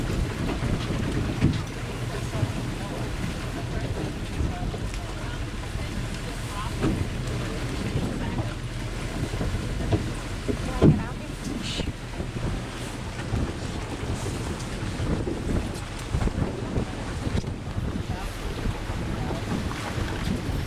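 A steel-bottomed boat pushes through ice in Alaska, a steady close rumble and grinding wash with wind buffeting the microphone throughout and a sharper knock or crunch partway through.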